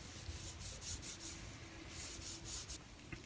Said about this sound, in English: It's best to use a lint-free piece of cotton and then rub it into the wood